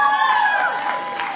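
A stand-up comedy audience cheers and claps, with whoops and shouts rising over a bed of applause that gradually eases off.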